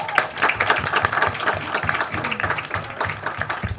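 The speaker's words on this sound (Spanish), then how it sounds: "Un aplauso" An audience at a Chilean literature undergraduate colloquium at UC applauds as a presenter takes her seat, dense rhythmic clapping that stays fairly loud and even for a few seconds.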